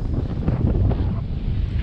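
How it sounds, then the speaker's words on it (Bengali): Steady sea wind buffets the microphone at a coastal spot as the tide comes in, a continuous low rumbling roar with gusty swells throughout and no voices. "খুব সুন্দর হাওয়া দিচ্ছে"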